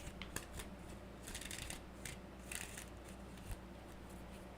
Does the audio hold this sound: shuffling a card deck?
yes